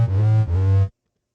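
A lead synth one-shot sample plays two sustained, loud tones in a row, each around half a second with rich harmonics, then cuts off abruptly into silence.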